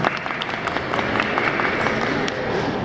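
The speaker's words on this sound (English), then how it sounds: "so give a round of applause." A panel audience at the AfroFest Women's Panel claps in a brief, dense burst of applause, steady and fairly close, with no speech over it.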